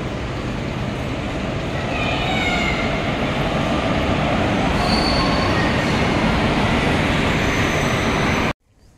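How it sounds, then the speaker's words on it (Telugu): A train arrives on the Yerraguntla to Tirupati railway track with a loud, continuous rumble of wheels and rising metallic squeal close by, ending abruptly. "చంది దగ్గరికి వచ్చింది ట్రైన్."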